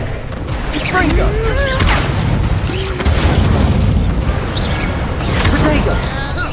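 A Confringo blasting spell explodes in Hogwarts Legacy, loud booming blasts and crackling bursts rolling across several seconds, dense and close, with shouting voices mixed in.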